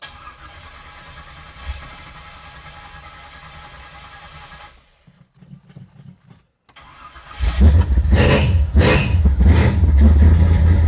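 A swapped V8 in a Chevrolet S10 truck idles, goes briefly quiet, then cranks and fires up with a loud, deep rumble and a few revs, close up.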